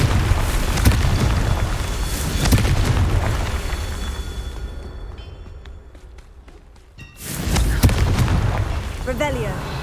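Fire spells exploding in Hogwarts Legacy, with repeated loud booms and bursts over game noise, a quieter stretch in the middle, then further blasts as a voice speaks over the action.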